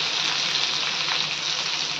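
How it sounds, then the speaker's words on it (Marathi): Thinly sliced onion fries in a pan with a steady, dense sizzle that holds at an even loudness throughout. "भरपूर असा कांदा छान भाजून घेऊयात."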